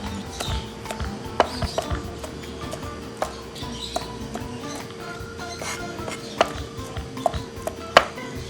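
Knife cutting pork feet into small cubes on a board, scattered sharp chops and taps close by over steady kitchen background noise, with a few louder strikes.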